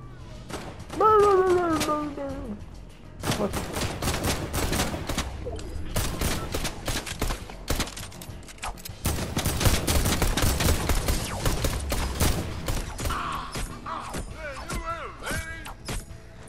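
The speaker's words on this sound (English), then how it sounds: "Rapid fire SMG." Rapid-fire SMG bursts in Fortnite, quick crackling strings of shots in several volleys with short gaps, mixed with game effects and a faint electronic tone.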